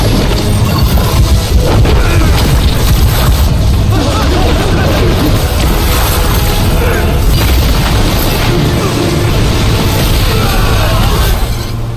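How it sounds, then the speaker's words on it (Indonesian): Huge explosion in the Jade Dynasty animation, a loud sustained booming roar with crashing, crackling debris that fills the whole stretch without letting up. "Akibat serangan barusan telah membuat ledakan yang begitu besar."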